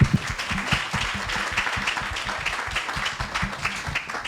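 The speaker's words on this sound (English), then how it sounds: "Again, a round of applause for the creators." Audience at a storytelling event on the Black wealth gap in Washington, D.C., applauding the creators, a dense, steady patter of clapping hands from a room full of people.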